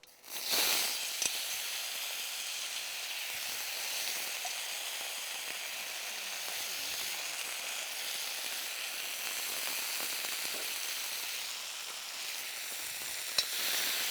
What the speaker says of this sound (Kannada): ಈಗ ನೆನೆಸಿಟ್ಟಿರುವಂಥ ಹಾಗಲಕಾಯನ್ನು ನಾನು ಈ ಒಗ್ಗರಣೆಗೆ ಹಾಕ್ತಾ ಇದ್ದೀನಿ